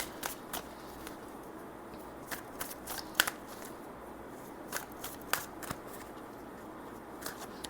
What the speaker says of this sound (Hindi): कॉस्मिक ओरेकल से भी मैं कुछ कार्ड्स लेना चाहूँगी